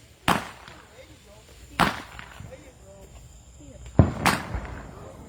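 Fourth of July fireworks pop and bang in three or four sharp, loud reports spaced a second or two apart, each with a brief crackling tail, against quiet outdoor background.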